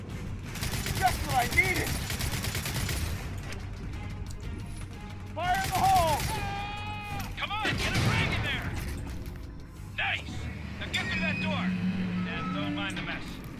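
Frag grenade blast and gunfire in the shooter game Gears of War 4, with bursts of shots and a heavy explosion beneath frequent voices talking over the combat.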